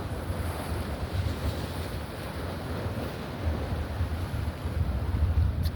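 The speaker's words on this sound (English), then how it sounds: "It's pretty wavy today." Ocean waves wash in steadily along the Pacific coast at Winchester Bay, Oregon, a continuous broad roar of surf mixed with gusting wind buffeting the microphone, with no voices.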